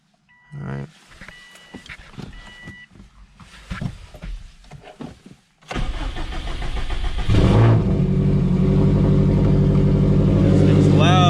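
A 2004 Subaru WRX STI cranks and fires up midway, settling into a loud, rumbling idle that holds steady to the end, following some quieter clicks and shuffling beforehand.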